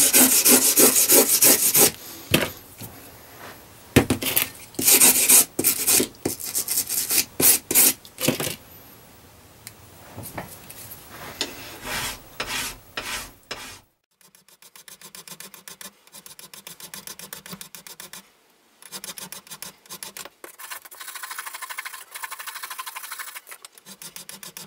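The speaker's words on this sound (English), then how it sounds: "Aluminum tends to clog up a file. I'm using this file comb here to clean it up." A file comb scrapes aluminum filings out of a metal file in a workshop, producing a close series of quick, rhythmic rasping strokes that break off into quieter, scattered scratches and pauses.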